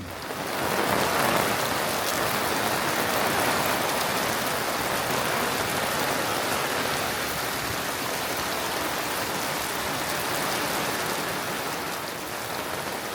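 Steady rain falls outdoors at a campsite, a dense, even hiss of drops on surfaces that lasts throughout with no pauses and no voices.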